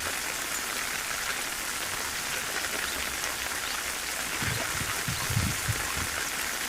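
Steady rain patters down by the Gumti River in an even hiss, with a few heavier drops splashing near the end.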